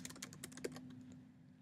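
A computer keyboard clatters in a quick burst of light keystrokes while a list title is entered, then trails off into quiet, soft and close.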